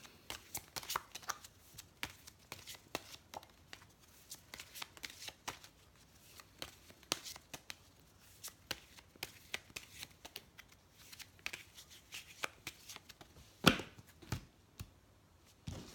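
Oracle cards are shuffled for a card reading, a long stretch of close, papery riffling and flicking with a few sharper slaps, faint voice now and then.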